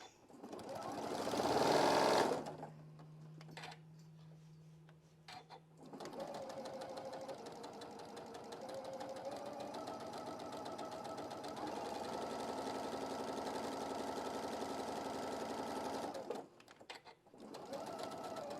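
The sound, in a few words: sewing machine stitching fabric Easter egg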